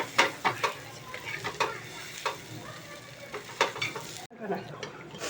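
Masala is stirred into cooking mutton in a pan, Kolhapuri style, with a steady sizzle under repeated scraping and clattering strokes of a spoon, close up.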